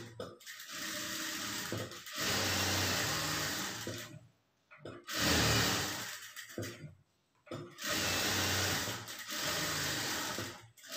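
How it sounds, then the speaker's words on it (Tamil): A sewing machine runs in several long bursts as it stitches along the lining edge of a blouse, with short pauses between runs and no talking. "லைனிங்குடைய எஜ்ஜில் வந்து தையல் போட்டுக்கலாம்."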